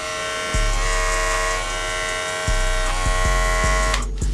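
A Conair Man electric hair clipper runs with a loud, steady motor buzz close up, briefly dipping and restarting a few times near the end.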